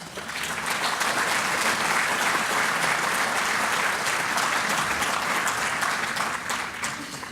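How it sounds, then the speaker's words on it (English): Sustained applause from a large audience, many hands clapping continuously and loudly before tapering slightly at the end. "Let's give them a round of applause."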